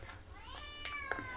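A pregnant house cat gives two or three drawn-out, rising-and-falling meows close by, fairly faint against a quiet indoor background, with no talking.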